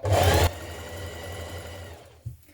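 A sewing machine stitches a neckline facing to a summer top, a loud brief motor burst followed by a steadier running hum that fades out, with a small thump near the end.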